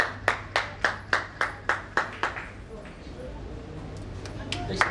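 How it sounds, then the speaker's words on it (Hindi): Around ten evenly spaced, close claps ring out in a steady rhythm at a foundation anniversary event, then stop, leaving faint background murmur with a low hum. "तालियां हो जाए।"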